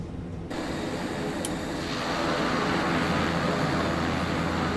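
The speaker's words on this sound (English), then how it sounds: "If you've ever flown on a Dash 8 or an ATR, that's exactly what it sounds like." A turboprop airliner taxis to the runway in a flight simulator game, giving a steady propeller and turbine drone that swells in after a brief quiet start and holds evenly to the end.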